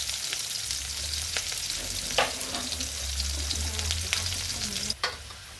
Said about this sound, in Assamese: তেল দিলো আৰু এতিয়া পিয়াজ দি দিলো